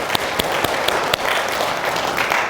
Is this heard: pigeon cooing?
no